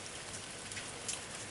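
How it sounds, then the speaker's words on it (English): Steady summer rain patters on a tin roof, a dense even hiss with occasional sharper drops, no voices. "a tin roof whispering under a summer shower"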